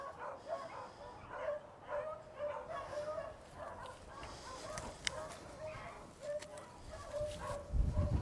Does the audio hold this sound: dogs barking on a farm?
yes